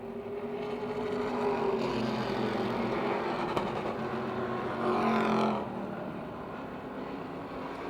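Napa Auto Parts Street Stock race cars run a heat race at Motordrome Speedway, their engines roaring steadily from a distance. The engine note swells twice as the pack sweeps past, with no voices over it.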